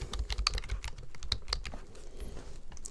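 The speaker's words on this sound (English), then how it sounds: "I can type the word postage in there" Rapid keystrokes on a computer keyboard, close and moderately loud, form an uneven burst of clicks over a few seconds with no talking.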